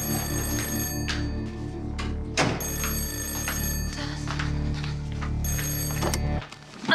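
A telephone rings in repeated bursts of bright bell tones with short pauses between them, loud and close, cutting off abruptly at the end, no voices.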